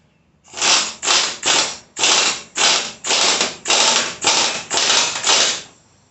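Power tool, turned down to its lowest setting, running a 19 mm axle nut onto a caster wheel axle: ten loud, even ratcheting bursts about half a second apart, close and alone.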